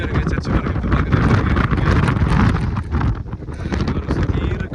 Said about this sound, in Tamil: மக்களே லைட் ஹவுஸ் மேலே வந்துட்டோம். எப்படி காற்றடிக்குது பாருங்க